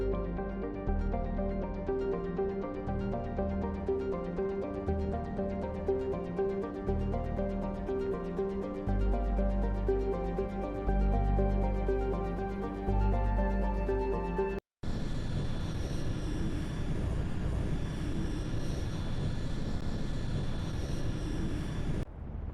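Spacecraft setting down in the video game Mass Effect Legendary Edition, a steady layered engine drone with shifting tones over game music, then a sudden cut to a broader rumbling ambience.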